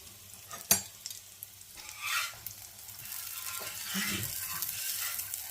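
Paratha frying and sizzling on a hot pan, a steady crackle of oil with a sharp clatter near the start and rising sizzle bursts as it is turned; no talk.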